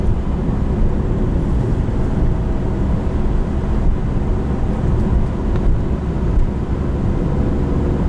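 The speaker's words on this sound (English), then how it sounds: "And this one does not have the sport exhaust, so this is the base exhaust." A 2015 Porsche 911 Carrera 4S with the base exhaust rumbles steadily from inside the car, a deep continuous engine drone holding a fairly constant level throughout.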